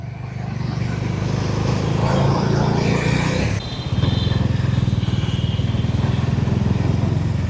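A motorcycle engine drones steadily close by, recorded from a GoPro Hero12 on an HJC helmet, with road noise and a short dip as the bike makes a U-turn before the engine rumble resumes.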